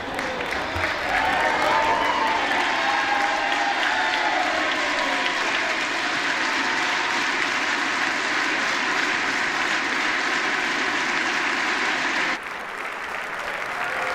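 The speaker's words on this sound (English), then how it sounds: "I think they might be just applauding for Kevin McCarthy" Loud, sustained applause fills the U.S. House chamber during the vote for Speaker, a dense wash of clapping and crowd noise that runs unbroken for about twelve seconds before dropping abruptly.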